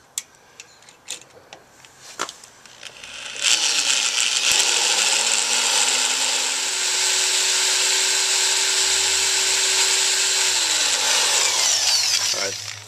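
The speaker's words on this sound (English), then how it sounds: "what I'm going to try and do now is drill right down the middle of it with this" A power drill bores straight down the middle of a broken bolt, starting after a few scattered clicks and knocks, then whining steadily and loudly for about nine seconds at a near-constant pitch before stopping.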